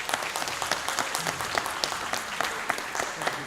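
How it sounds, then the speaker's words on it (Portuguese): Steady applause from a church service congregation fills the whole stretch, dense clapping with a few sharper claps standing out, no talking on top. "Vamos recebê-los com uma salva de palmas."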